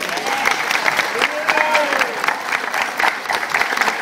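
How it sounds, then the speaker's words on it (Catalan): A crowd at a neighborhood festival applauding the festival committee, with sustained dense clapping, some whoops and cheering voices over it, and people talking beneath. "Vull dir, un aplaudiment per tots ells."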